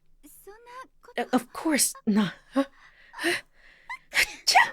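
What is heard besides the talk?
character sneezing in video game Never 7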